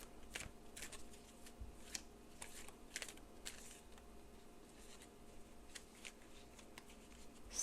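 Tarot cards shuffled and drawn by hand, a soft papery riffling with repeated light flicks and taps, close and quiet, with no talking.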